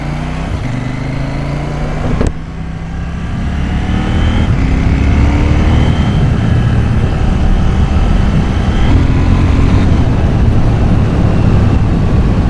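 Motorcycle engine on a quick ride, a loud steady drone with gear-change dips and rising revs, overlaid by continuous wind rush from riding.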